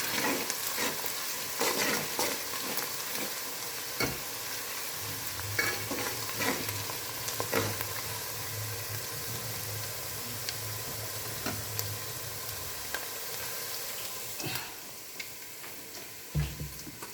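Beef for Naga beef chutney fries in a pan with a steady soft sizzle, broken by intermittent scraping and stirring clicks from a utensil, fairly quiet and close throughout.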